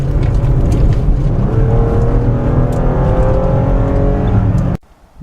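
A 2014 Lexus SUV with an eight-speed automatic drives through corners. A steady, loud engine drone comes from inside the cabin, with faint rising tones as the revs shift, and it cuts off abruptly near the end.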